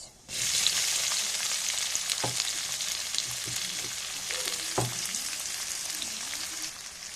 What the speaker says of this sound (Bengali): পেঁয়াজটা একটু লাল করে ভেজে নেব একটু সময় নিয়ে ভাজতে হবে